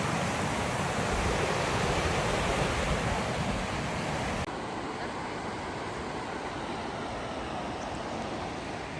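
Rushing water of Cabin Creek at a Montana trailhead and river crossing, a steady loud broadband roar close by that continues unbroken and slightly drops in level halfway through.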